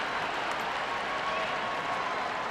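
A tennis crowd at the 2022 US Open applauds steadily to support Serena Williams in her second-round match, a dense even wash of clapping with no breaks.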